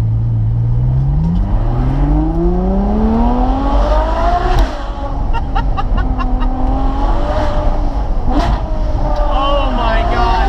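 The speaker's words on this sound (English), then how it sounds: "give it some gas on the back road and really get a feel for that V12" A high-revving Ferrari 812 Superfast V12 roars as it accelerates on a back road, pitch climbing through the gears with brief dips at shifts, loud and close from inside the car.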